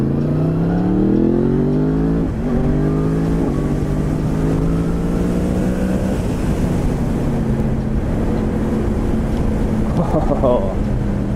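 A 2018 Yamaha MT-10 SP motorcycle accelerates in second gear, its engine note climbing steadily and loud under heavy wind rush, with a shift and a fresh rise near the end.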